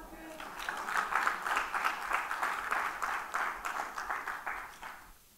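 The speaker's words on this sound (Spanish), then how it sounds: "Dele palmas al Señor." Church congregation applauding during a Spanish-language service, a moderately quiet, dense wash of many hands clapping steadily for several seconds before fading out near the end.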